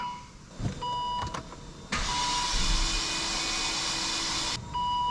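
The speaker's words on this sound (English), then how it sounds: "Let's get one more crank on it." A Volvo engine that burns oil is cranked by its starter motor: a steady, whirring drone runs for several seconds and then cuts off abruptly, close by, with no voices.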